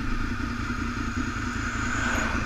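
Honda VFR 800 FI Interceptor RC46 motorcycle engine while riding, a steady low hum with faint wind noise, moderately quiet and continuous with no speech.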